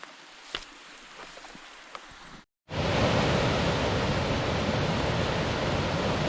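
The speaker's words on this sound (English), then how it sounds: "First good waterfall of many more." Pigpen Falls on the Foothills Trail roars steadily and close after a few quiet seconds of faint clicks and taps, the broad rushing sound continuing unbroken to the end.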